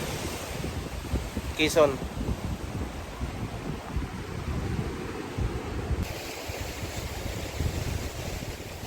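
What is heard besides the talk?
strong wind at the seashore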